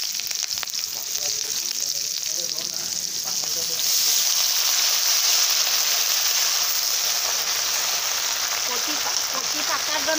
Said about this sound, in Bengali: কচুটা আমি ভেজে নেব।